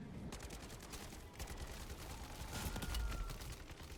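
Continuous gunfire from a Modern Warfare 3 Zombies match, a dense steady stream of rapid shots at fairly low level, with a slight swell near the end and no voices.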